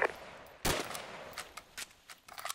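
Machine gun fire on a training range: one loud sharp report followed by scattered fainter shots in a quick irregular string, fairly distant and alone without talk.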